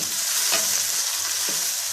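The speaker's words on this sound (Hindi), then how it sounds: "और अब इसको अच्छे से मिक्स कर लें।" Onions stirred in a frying pan for chicken bhindi, a steady close sizzle with a few soft scraping strokes of the spoon, no voices.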